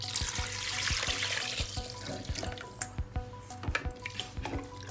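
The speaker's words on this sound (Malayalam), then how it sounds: "രണ്ടര ഗ്ലാസ് വെള്ളം ഒഴിച്ചു ഇതിനകത്ത്" Water is poured from a glass into a pressure cooker holding rice for chicken biryani, with dripping and trickling splashes over a steady background hum, fairly quiet and close.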